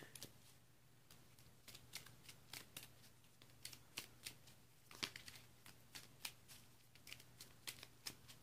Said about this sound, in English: Shuffle them back into the deck.